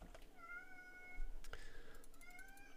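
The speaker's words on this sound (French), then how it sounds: "Oui, le chat. Oui, miaou." A cat meows loudly and repeatedly at close range indoors, several drawn-out calls with short gaps between them, and no one speaks.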